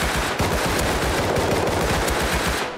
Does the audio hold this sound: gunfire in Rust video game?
yes